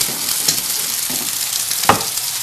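Beef frying in a pan gives off a close, steady sizzle, broken by a few sharp crackles and pops.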